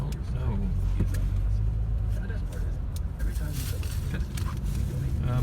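A car driving through heavy Friday evening traffic, its steady low engine and road rumble running loud and continuous throughout, with a voice speaking over it.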